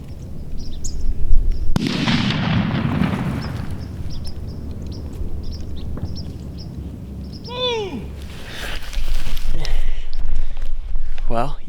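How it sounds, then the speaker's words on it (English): A single distant muzzleloader rifle shot rings out during a Kentucky deer hunt at last light, a sharp crack with a rolling echo, followed by birds calling and people talking quietly nearby. "Well, you heard the shot."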